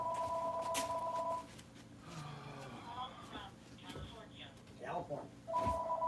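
A telephone rings in a home shed with two bursts of warbling electronic tones, one at the start and one at the end. Someone talks in the gap between the rings.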